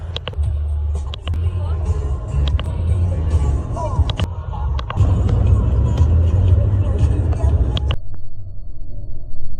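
A Porsche at a Porsche event in Embrun in the Alps accelerates hard away after a U-turn, a loud, steady low engine roar rising in intensity, with crowd chatter and voices around it.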